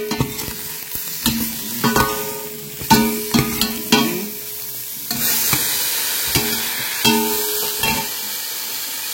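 Pork stir-fried in a pan for a Hong Kong-style dish sizzles steadily, with repeated close scraping and stirring clatters over the hiss and no talking.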